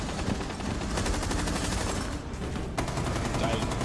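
Rapid automatic gunfire from Rainbow Six Siege gameplay rattles in fast, loud bursts, broken by a short pause before a final sharp shot and more firing.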